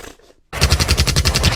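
Loud, close machine gun fire erupts after a brief quiet moment and hammers on in a fast, steady stream of shots with no voices.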